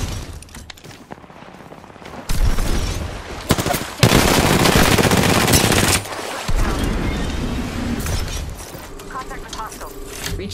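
Apex Legends firefight with loud, fast bursts of automatic gunfire and impacts that start abruptly and keep going. Quieter game sounds come before the shooting, and a voice is heard during it.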